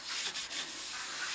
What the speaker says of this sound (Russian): После этого мы берем шлифовальную машину и зашлифовываем